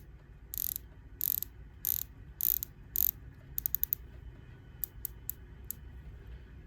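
The bezel of a Tudor Pelagos dive watch being rotated, giving crisp ratcheting clicks: five spaced bursts, then a quick run of clicks and a few single clicks, close-up in a quiet room with no talk.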